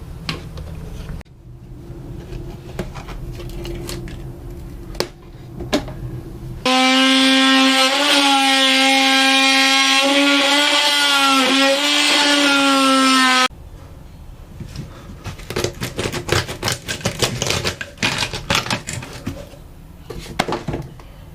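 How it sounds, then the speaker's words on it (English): A power saw plunge-cuts through material aboard a boat, a loud steady whining cut of about seven seconds with a pitch that wavers slightly, framed by quieter clattering and handling noises before and after. "Now I'll remove this little piece here, around here, that way I could plunge my blade the rest of the way through."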